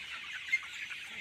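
A sick chicken with watery eyes and a cold gives faint, soft clucks, a short quiet murmur of low-level calls close by with no voices.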